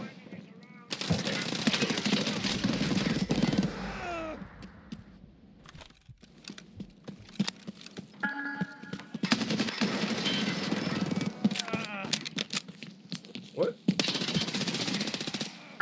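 Rapid automatic gunfire in a video game comes in several long bursts with brief pauses between them, and a player talks over the shooting.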